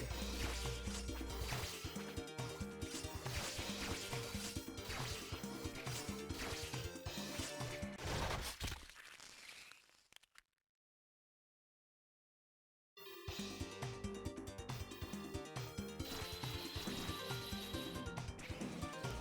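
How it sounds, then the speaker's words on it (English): A death animation plays in the Shadowplay level of the video game 198X. Dense, wet splashing, dripping and crashing sounds rise over loud game audio, cut to a few seconds of complete silence, then resume at full volume. "Shadowplay, which, by the way, has such a satisfying death animation that I had to die on purpose just to get it recorded"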